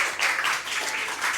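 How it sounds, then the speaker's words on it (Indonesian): Applause from a classroom of pupils for a classmate named Rizky, a short burst of many hands clapping close by, steady and dense for under two seconds. "tepuk tangan dulu semua buat Rizky"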